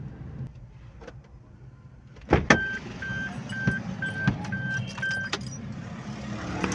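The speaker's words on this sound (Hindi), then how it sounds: "अपनी गाड़ी को पार्क करते हैं, सबसे पहले पार्किंग ढूंढते हैं कोई अच्छी सी" Car being parked, heard from inside as a faint engine hum with several sharp clicks and clunks, followed by a steady run of evenly spaced short electronic beeps like a parking sensor or warning chime.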